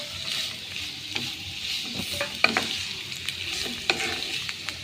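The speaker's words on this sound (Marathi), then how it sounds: "तेल आतां मातशें गरम जालें आनी आतां ते कॅरट फ्राय कोतां" Carrots frying in hot oil in a home kitchen for Goan prawns chow chow, with a steady soft sizzle and occasional clicks and scrapes of stirring.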